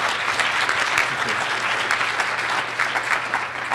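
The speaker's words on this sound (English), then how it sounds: "let's give them a round of applause for all of us being here today" An afternoon conference session audience applauds in a sustained, even round of clapping, moderately loud and continuous, with a low hum beneath.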